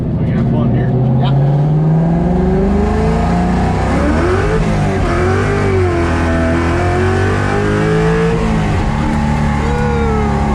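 Widebody Ford Fox-body Mustang with a Coyote V8 swap roars on a race track, its engine revving and climbing through gears at close range, loud and continuous, with people talking over it.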